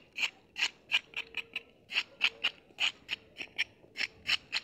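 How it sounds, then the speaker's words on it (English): Fresh carrots being scraped by hand to remove field dirt, a rhythmic series of short, rasping strokes, about two or three each second, close up and fairly quiet against a hushed background. "So you're gonna do a little bit of scraping here first. Get off the dirt part first."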